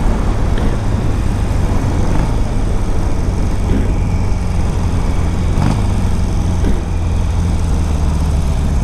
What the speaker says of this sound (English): There's just something about riding a bike that feels so small but has such a big engine.